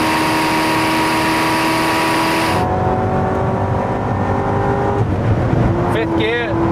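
A Chevrolet Corvette ZR1 at very high speed in fifth gear gives a loud, sustained engine drone with heavy wind rush, its tone shifting as it pulls harder and a voice speaks over it.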